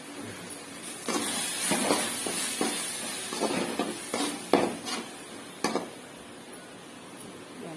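Crab gravy is sautéed in a pan, with a spoon scraping and clinking against the metal in uneven strokes over a soft sizzle, close by.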